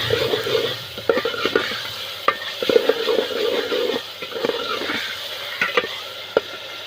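Spices, tomatoes and green chillies sizzle in a pan for sabzi, a steady frying hiss broken by repeated clinks and scrapes of a stirring spoon.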